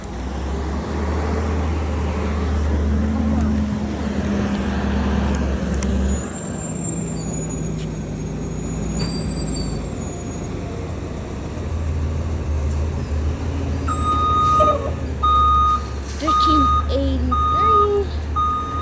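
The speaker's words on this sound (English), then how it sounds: "trash trucks here" A garbage truck rumbles nearby with a heavy low engine drone, then near the end a steady series of high reversing beeps sounds at regular intervals over traffic noise.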